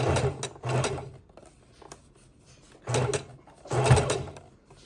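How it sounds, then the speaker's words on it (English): A sewing machine stitches scrap fabric into ruffles for a junk journal, running in two bursts of mechanical whirring separated by a quieter pause while the bulk is pushed under the needle, with no talking. "needle down, forward, back, and then just push some bulk under there,"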